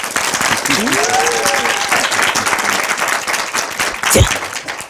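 An audience claps together in a room at a couples enrichment round-table gathering, dense steady applause throughout with a voice briefly calling out over it and a short thump near the end.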